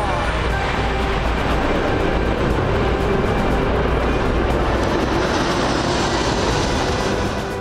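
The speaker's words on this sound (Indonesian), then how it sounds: "Aksi ini digelar di atas Istana Merdeka dengan melibatkan 18 pesawat tempur dan 8 helikopter alutsista TNI." Military fighter jets, among them T-50i Golden Eagle, F-16 and Sukhoi aircraft, fly over with helicopters above a presidential palace in a steady, loud, continuous roar with no break.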